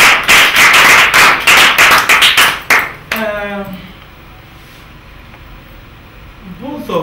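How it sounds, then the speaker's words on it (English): An audience applauds for a pair of competition winners, a loud burst of clapping for about three seconds that stops abruptly, leaving quiet room tone and then a voice. "A round of applause for them."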